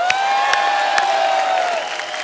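A studio audience on a comedy talk show claps and cheers for a hockey team, a dense crowd roar of applause with whoops, loud and close, easing off near the end.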